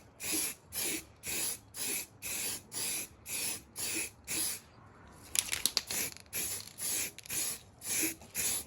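Spray can laying a light first coat of paint on a BMW E36 328i subframe, short rhythmic hissing bursts in a steady on-off pattern, with a brief rattle midway before the bursts resume.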